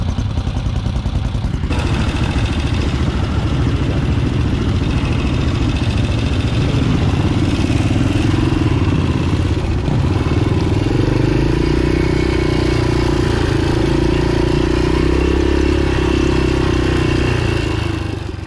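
A Yamaha XT 500 motorcycle rides along a farm scrub track, its engine thumping steadily and close throughout with dense low rumble and some mechanical clatter, no talk over it.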